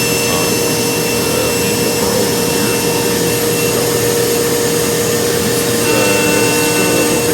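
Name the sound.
CNC machine cutting out stars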